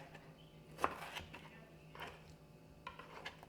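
A knife making a few slices through food on a cutting board, giving soft irregular taps and thuds, close but quiet, with one sharper knock near the start.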